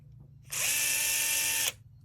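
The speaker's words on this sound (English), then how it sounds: "So it fits on the handle, and this is an electrical screwdriver." An electric screwdriver fitted by an adapter to the handle of a circular knitting machine runs in one steady, loud whir lasting just over a second, starting and stopping abruptly over a faint low background hum.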